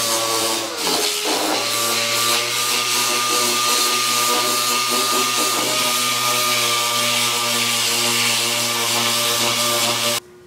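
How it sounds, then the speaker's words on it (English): Power sanding of fiberglass and epoxy on a 1937 Studebaker car body, a loud, continuous close-up motor drone with steady harmonic whine that runs unbroken for about ten seconds before cutting off. "I can sand it smooth and apply new layers of glass and epoxy"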